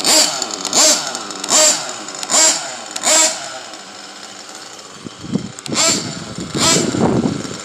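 A nitro engine in an XTM Mammoth RC truck revs in loud, close, rhythmic bursts, five even blips and then a rougher, sputtering run of revs.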